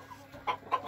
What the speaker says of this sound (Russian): Черный петух, черная курица.